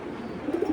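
Silver racer pigeons coo in a brief, low, throaty call that rises at the end, near and moderately loud.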